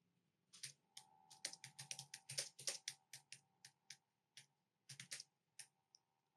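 Typing on a computer keyboard in a quiet room, with irregular bursts of crisp key clicks separated by short pauses and a faint steady hum underneath.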